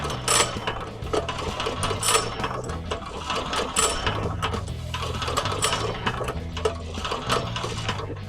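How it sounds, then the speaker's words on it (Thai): Repeated pulls on the recoil starter of a Kawama 500D small diesel engine, a close mechanical ratcheting and clattering with rhythmic cord strokes over several seconds, no talk. "แล้วจากนั้นก็ดึงรีคอยสตาร์ทครับ 4-5ครั้งครับ"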